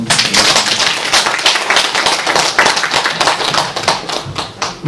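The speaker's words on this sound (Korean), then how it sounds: "수고해주신 윤문기 사무처장님한테 다시 한번 박수 좀 부탁드립니다" Dense, steady audience applause at a Korean training session for Haeparang Trail guardians in the Gyeongju section, with many hands clapping close and loud throughout.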